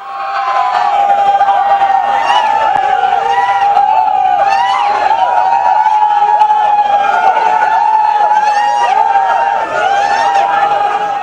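A large, dense crowd surges around a police vehicle carrying actor Dileep on the national highway toward Aluva sub-jail, a continuous loud roar of shouting, cheering and chatter with rising whoops throughout.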